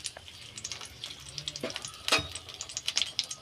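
Bay leaves dropped into hot mustard oil in a pan crackle and sizzle, with a sharp spitting burst midway and steady faint frying hiss, close up and under quiet talk.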